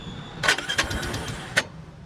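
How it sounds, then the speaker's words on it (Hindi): A Royal Enfield Bullet motorcycle's faulty electric self-starter makes its noise while starting, as two short, harsh bursts over a low mechanical rumble, heard close and without speech. "भाई बुलेट में स्टार्ट करते समय आवाज़ आ रहा है, सेल्फ का आवाज़ आ रहा है भाई।"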